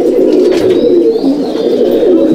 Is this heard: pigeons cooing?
yes